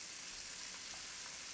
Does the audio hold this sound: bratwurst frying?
yes